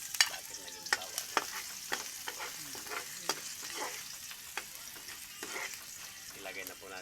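Garlic frying in a pan for a vegetable dish is stirred with a utensil. Quick clicks and scrapes repeat over a continuous soft sizzle.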